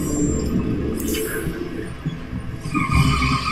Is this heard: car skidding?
yes